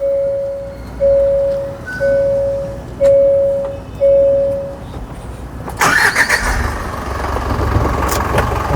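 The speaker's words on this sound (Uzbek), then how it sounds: "Hozir mashinani yurgizib ham ko'rsatamiz." Five evenly spaced electronic beeps sound first, then the engine of a refrigerated freezer vehicle from South Korea cranks and catches, settling into a loud, close, steady idle.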